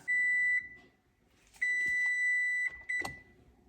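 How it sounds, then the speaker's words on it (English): A phone rings with an incoming call in a home kitchen, sounding as sustained electronic tones in three bursts, the middle one longest, loud and close with brief quiet gaps between them. "I had a phone call."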